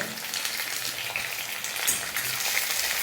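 Onion and tomato frying in a pan, a steady close sizzle with dense crackling spatter running evenly throughout and no voices.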